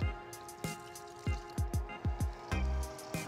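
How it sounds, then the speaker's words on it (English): Dates and water go into a sticky toffee pudding batter in a home kitchen, giving a series of close, wet plopping and dripping sounds, about nine soft splashes in an uneven rhythm, with no talk. "We're going to add now the date and water."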